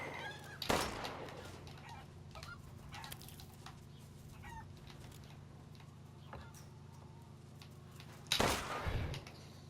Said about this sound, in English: Oh yeah, got some chickens.